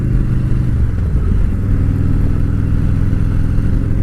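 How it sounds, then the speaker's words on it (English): Close, loud idle of a 2017 Harley-Davidson Road King's Milwaukee-Eight 107 V-twin, a steady, deep pulsing rumble with a light mechanical clatter, running alone without talk. "This is my 2017 Road King, the Milwaukee-Eight 107, affectionately known as Alice."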